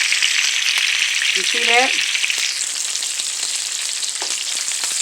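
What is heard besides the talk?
turkey wings searing in a pan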